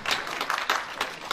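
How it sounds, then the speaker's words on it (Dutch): A carnival association audience breaks into dense, continuous applause at close range, many hands clapping in a lively patter with no voices over it. "geef ze toch een keer een daverend applaus"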